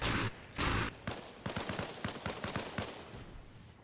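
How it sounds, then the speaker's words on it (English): Gunfire crackles through an NPC battle in which USMC Raiders assault an insurgent outpost: two loud, long bursts open, then a rapid string of sharp, separate shots rattles on steadily with no talking. "Shots ring out."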